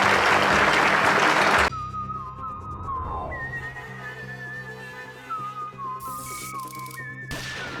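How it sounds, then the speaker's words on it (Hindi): An audience at a lively stage show claps loudly for under two seconds; the clapping then gives way to music with a wavering whistle-like melody. "जोरदार तालियां प्लीज।"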